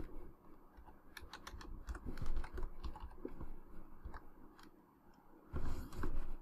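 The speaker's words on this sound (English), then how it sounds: "Oops, I was typing on the keyboard down here again." Fingers type on a computer keyboard while a Raspberry Pi is set up as a media and file server, a close series of irregular light clicks in bursts with brief pauses.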